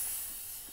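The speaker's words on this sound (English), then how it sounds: "I'm going to purge the wand." Steam wand of a Profitec GO espresso machine purging: a steady, loud, dry hiss that runs unbroken and fades slightly, heard alone.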